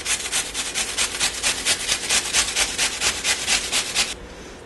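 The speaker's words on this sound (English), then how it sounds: "just grate up the onion" An onion is grated by hand for a lean turkey meatloaf, giving about a dozen quick, even rasping strokes up close that stop abruptly, with no talking.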